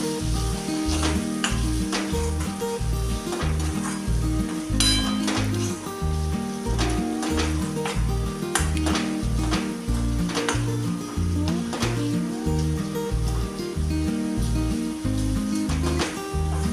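Spices are stirred into green corn chevdo cooking in a pan. A steady, loud sizzle runs throughout, broken by regular scraping and clinking of the stirring spoon, with music playing underneath.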